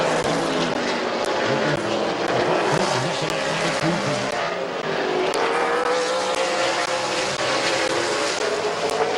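Late model race cars roar around the track at Midvale Speedway, loud and continuous, with engine pitch rising and falling as the cars pass.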